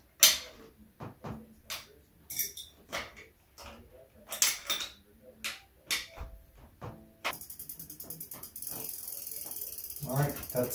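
A wheel on a Dahon Vybe folding bike is tightened during an inner tube change, with a series of close clicking ratchet turns in short uneven bursts, followed by a steady hiss near the end.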